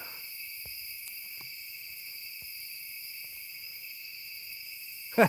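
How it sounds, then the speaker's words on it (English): A steady, high-pitched drone of night insects chirping continuously outdoors at a truck campsite, with a few faint soft knocks and a brief sound at the very end. "I don't know if you guys can hear the night sounds, the bugs"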